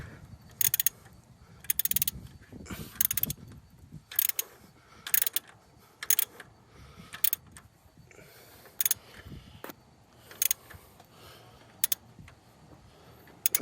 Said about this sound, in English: I'm gonna attempt to video myself tightening this bolt here